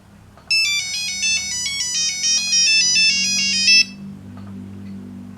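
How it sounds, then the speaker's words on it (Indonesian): A Nokia 3350 mobile phone plays a bright, beeping monophonic ringtone, a quick melody of clear electronic tones lasting a few seconds before stopping abruptly, with faint background noise after. "Ini nada dering."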